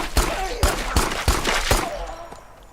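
Five heavy gunshots fired at a monster in a video game, spaced about half a second apart, loud and close with booming low ends, then a fading tail.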